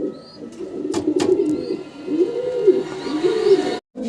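Pigeons coo steadily and close by in a low, throaty burble, with a few brief chirps and faint wing flutters over a short stretch before a sudden cut.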